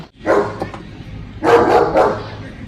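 A dog barks outdoors in two close, fairly loud bursts with a brief pause between them.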